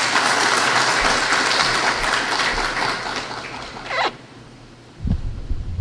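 Applause from an audience at a prayer and purification ceremony, a dense steady wash of clapping that fades after about three seconds and drops out near four, with a brief burst of noise returning toward the end.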